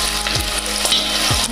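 Garlic and onion fry in a pan with a loud, close, continuous sizzle, broken by two or three quick stirring scrapes, with no voices.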